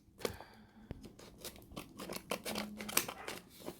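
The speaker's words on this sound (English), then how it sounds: "I'm going to cut through the sellotape" Quiet snipping and crinkling as scissors cut through sellotape on a Casio watch box, a flurry of close, irregular crisp cuts and tearing sounds.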